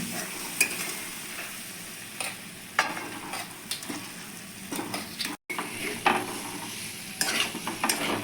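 Fried potatoes being stirred into a cauliflower curry masala in a pan, a steady sizzle punctuated by repeated scraping strokes of a spatula, with a brief silent gap midway.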